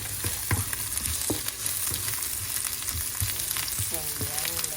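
Ginger fries in a little oil, a close steady sizzle broken by scattered spoon taps and scraping stirs against the pan.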